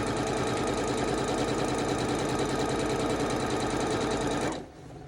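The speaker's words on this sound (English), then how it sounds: "I'll sew on some extra before we get started," A sewing machine stitches quilt pieces in one fast, steady, continuous whir before stopping abruptly near the end, with no talking.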